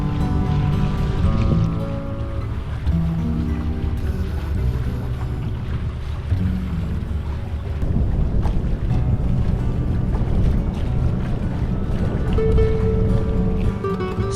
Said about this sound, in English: There was very little wind, so we had to motor all the way.